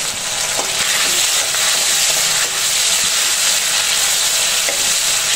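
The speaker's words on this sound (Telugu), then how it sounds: "ఇదన్నీ పేస్టే కాబట్టి తొందరగా ఫ్రై అయిపోద్ది." Ginger paste with green chillies sizzling in a pan, a loud, continuous frying hiss with faint occasional stirring scrapes, close up and without any voices.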